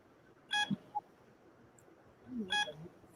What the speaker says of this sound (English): You don't hear that beep?